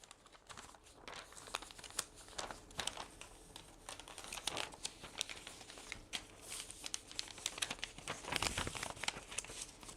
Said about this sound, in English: Imagine when you fold a sheet like this.